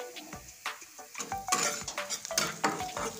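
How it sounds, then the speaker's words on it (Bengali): Spoon scraping and clattering against a pan while fish curry masala with onion is sautéed and stirred, quick uneven strokes over a faint frying sizzle, close up and without talk. "কষিয়ে নিচ্ছি, এখনো হয়নি কষানো, আরো কষতে হবে।"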